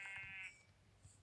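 A Minecraft sheep lets out a short, quiet bleat, one brief wavering cry followed by faint game ambience.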